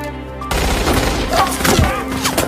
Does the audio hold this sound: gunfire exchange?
yes